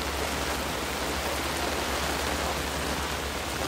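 Heavy rain pours down steadily and loudly, a dense unbroken roar of water close by with no voices.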